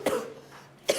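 A woman with a heavy cold coughs twice, once at the start and again near the end, each a short harsh burst separated by a quiet pause.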